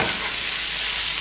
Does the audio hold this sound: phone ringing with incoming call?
no